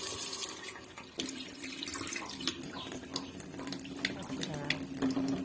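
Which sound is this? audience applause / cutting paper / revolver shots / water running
water running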